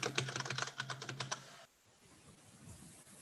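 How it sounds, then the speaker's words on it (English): Rapid keystrokes on a computer keyboard in a burst of close, brisk clicks lasting just over a second, then stopping and leaving faint room noise. "Oh, someone's typing."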